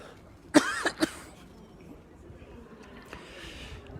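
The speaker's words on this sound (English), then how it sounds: "Getting a touch of the coughs again." Two sharp, close coughs in quick succession from a man outdoors in Sudbury, Suffolk, followed by quiet background street ambience and a faint later throat sound.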